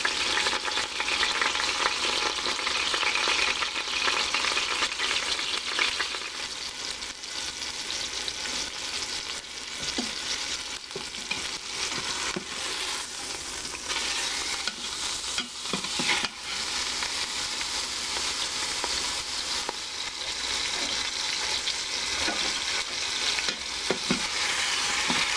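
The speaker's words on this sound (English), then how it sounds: "you want to leave that in there and let it sear for a couple of minutes on each side" Chuck roast searing in a hot Instant Pot, a loud, steady sizzle and crackle of fat spitting in the pot that runs unbroken for the whole stretch with a few sharper pops.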